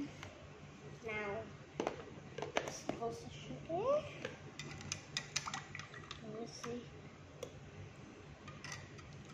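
A spoon stirs coffee in a cup, giving soft repeated clinks and scrapes against the cup at close range, with someone talking over parts of it in a quiet room.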